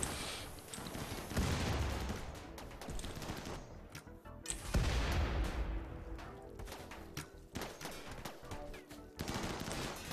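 RimWorld turret gunfire in the A9 build: repeated bursts of rapid shots, dense and moderately loud, with brief pauses between volleys and no speech over them.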